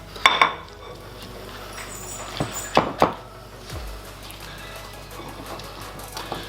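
A metal spoon knocks and scrapes against a dish while serving tuna pasta bake, a few sharp clinks and scrapes spaced out over a quiet kitchen background, no speech.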